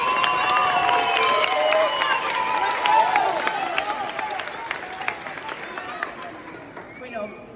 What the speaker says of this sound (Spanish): hacémosles otro grande aplauso, chicos, a Dani Carvajal